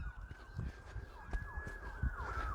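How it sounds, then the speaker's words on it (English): Emergency vehicle sirens wail outdoors, a steady rising-and-falling electronic tone that carries clearly over low rumbling background noise for the whole stretch. "sorry, there's sirens going on right now"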